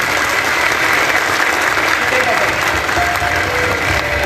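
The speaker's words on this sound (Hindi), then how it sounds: "जोरदार तालियां बजाएंगे।" Loud, steady applause from a congregation at a charismatic prayer gathering with priests and choir, a continuous dense wash of clapping with faint voices mixed in.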